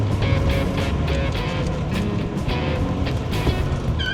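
Toyota Mark II X80 with a 1JZ-GTE turbocharged six-cylinder engine, running with a steady loud engine drone and rising whine, heard close without talking.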